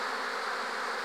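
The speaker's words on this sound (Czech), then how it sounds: "Dívejme se, jak včely usilovně nosí pyl" Honeybees carrying pollen fill the air with a dense, steady buzzing hum, close and continuous, with no other sounds breaking through.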